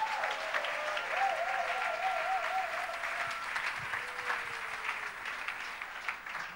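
A church congregation applauds steadily during a Sunday worship service, a dense continuous clapping of the whole room with a faint sung or sustained vocal tone drifting above it.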